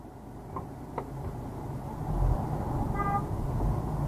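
A car horn sounds in road traffic, with brief faint toots early on and a clearer honk near the end, set against a steady rumble of passing vehicles.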